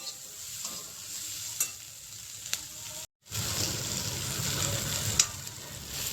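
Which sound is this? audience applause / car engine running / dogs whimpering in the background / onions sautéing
onions sautéing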